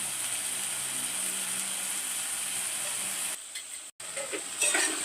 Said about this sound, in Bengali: হালকা করে ভাজলাম